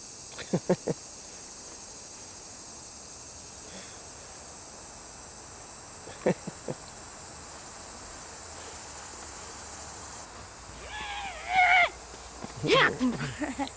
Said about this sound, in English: What are those, like cicadas or? There are cicadas around.